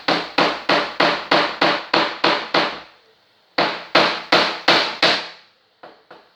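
Nails being hammered into wood for a homemade shoe carousel: a fast series of sharp, ringing strikes close up, a short pause, then another quick series and two lighter final taps.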